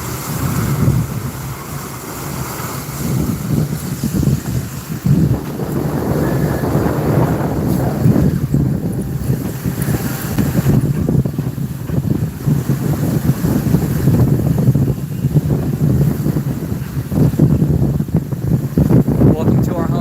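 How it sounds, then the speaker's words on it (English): Wind rushing steadily past a sailboat making 7 knots on the Caribbean sea toward St. Vincent, a loud continuous roar with buffeting microphone gusts and water noise, with a voice talking at times. "Oh, we're doing 7 knots now. Wind is increasing."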